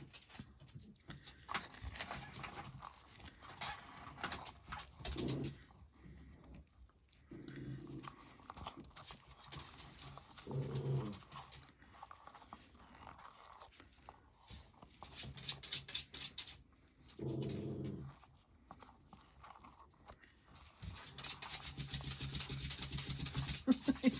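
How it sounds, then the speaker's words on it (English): Dogs in a home crafting room make faint, scattered bursts of noise, like muffled barks or scuffling, separated by quiet stretches and rising slightly toward the end. "You can hear my dogs."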